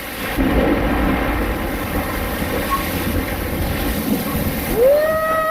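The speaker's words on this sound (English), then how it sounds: "Once again, a summer squall." A summer squall's wind roars in a constant, heavy broadband rush around a porch, gusting slightly, with a brief rising whine near the end.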